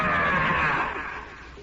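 A voice imitates the Jersey Devil's shriek with one loud, sustained, rising scream that fades away toward the end.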